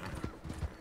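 Horse hooves clip-clop in a steady rhythm as a horse is ridden in the Red Dead Redemption 2 video game, close and fairly quiet, with an occasional faint whinny.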